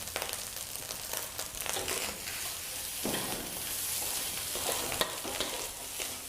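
Fried rice stir-fried in a hot wok just after a splash of sesame oil goes in, with a steady loud sizzle and the scrape and toss of a spatula throughout, no voices.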